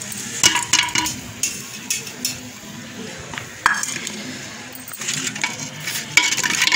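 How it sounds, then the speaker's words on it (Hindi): Spices for tadka are tempered in hot oil in a village kitchen, crackling and sizzling with intermittent clinks of a utensil stirring in the pan, close and moderately loud. "अब लगाती हूँ उसमें तड़का।"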